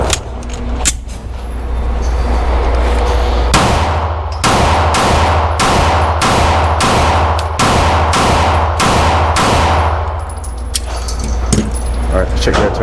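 Pistol shots from an M&P Metal carry comp handgun at an outdoor range, about nine loud sharp cracks in a fairly even rapid string, close to the microphone, with clattering and rustling before and after.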